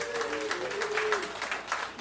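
An audience at a comedy roast claps steadily, with scattered whoops and a voice speaking over the dense, continuous applause.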